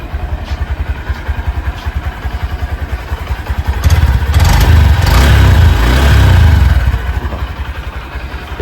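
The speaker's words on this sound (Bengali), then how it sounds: "একবার ইঞ্জিন সাউন্ড শুনে নেবো কাছ থেকে।" A 2023 Honda SP125 motorcycle engine runs steadily up close, a smooth low throbbing idle that swells briefly louder in the middle before settling back, with no talking.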